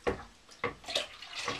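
Apple juice concentrate splashes and gurgles in uneven glugs as it is poured into a batch of mead, close and fairly loud.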